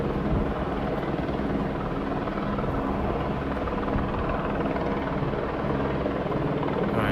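Several helicopters flying low overhead, close enough that their downwash stirs the trees, give off a loud, steady rotor and engine roar that holds without a break and with no talk over it.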